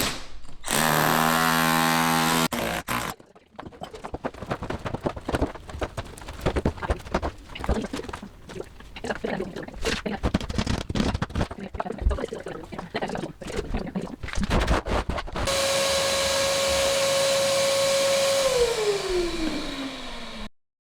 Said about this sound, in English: How does it feel to wield a power tool?